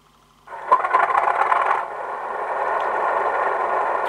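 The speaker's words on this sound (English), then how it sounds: "And we can start the engine." A model locomotive's engine sound starts up after headlights are switched on in a rebuilt loco fitted with a new speaker enclosure, beginning with a sudden clattery burst and then settling into a steady, fairly loud running drone.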